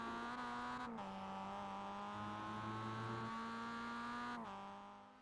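A Mazda MX-5 race car engine in iRacing at Oulton Park International holds a steady high-revving drone, with two quick gearshift dips in pitch and a slight fade at the end.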